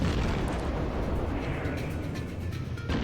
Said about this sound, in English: My aft turrets are now able to fire, so we're going to be staggering our shots a bit.